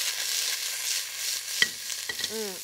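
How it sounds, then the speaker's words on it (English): A pot of onions and garlic fries with a broad, airy hiss, then a sharp clank and a few rattling knocks as it is given a quick shake. "I'll give my pot just a quick shake."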